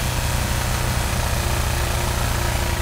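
A rough, laboring car engine being run until destroyed, with its oil drained, holds a constant loud drone with a low, uneven throb and no pauses.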